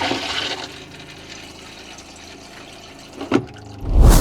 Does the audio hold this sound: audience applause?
no